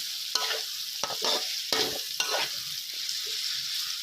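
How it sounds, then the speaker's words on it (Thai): Curry paste sizzles in hot oil in a wok for a spicy fried catfish stir-fry, crisp frying hiss broken by several scraping spatula strokes, close and steady with no talking. "ผัดขยี้ครับขยี้ขยี้ไปนะครับ ให้ พริกแกงมีความหอมนะครับ"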